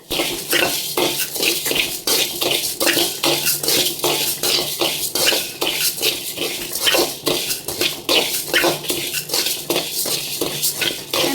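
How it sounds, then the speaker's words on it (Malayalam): Washed rice roasting in an old pan is stirred briskly, with a spoon scraping and clinking against the metal in a fast, steady rhythm, close and loud, with no talking. "അരി നന്നായിട്ട് വറുത്ത് പൊടിക്കണം കേട്ടോ."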